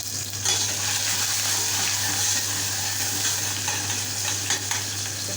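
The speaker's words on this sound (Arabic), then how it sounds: "تتقلى بصالتنا" Onion frying in oil in a pan, a steady, dense sizzle and crackle that stays loud and even throughout, with a low constant hum beneath and no talking.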